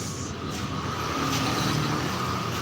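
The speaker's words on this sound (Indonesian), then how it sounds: "Banyak mobil lewat, guys." Street traffic with cars driving past, a continuous broadband wash of engine and tire noise that swells as vehicles pass fairly close by.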